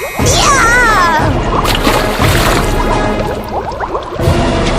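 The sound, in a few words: splash of witch falling into pot of boiling water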